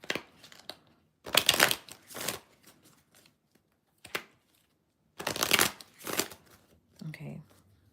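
Tarot cards are shuffled and pulled for a Capricorn reading, with several close bursts of riffling shuffles separated by quiet gaps and a soft voice briefly speaking near the end.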